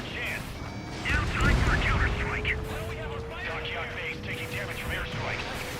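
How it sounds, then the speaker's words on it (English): Airstrike explosions rock a dockyard base in the combat flight game Ace Combat 7, a heavy low boom swelling near the second mark over a steady rumble while a voice talks throughout. "Dockyard base taking damage from airstrikes."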